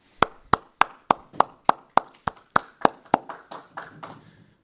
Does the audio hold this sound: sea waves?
no